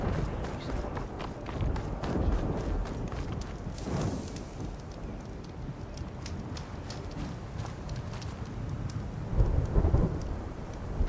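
Thunderstorm in the video game Horizon Forbidden West: steady heavy rain with rumbling thunder rolls swelling around four seconds and again near the end, loud and continuous throughout.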